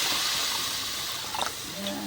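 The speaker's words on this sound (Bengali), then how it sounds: "পরিমাণ মতো পানি দিয়ে দাও।" Water runs and splashes steadily into a cooking pot with a broad hiss, close by, with a brief clink near the end.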